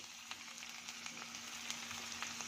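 A faint, continuous sizzle of cumin seeds frying in hot oil, with light crackles popping irregularly over a low steady hum.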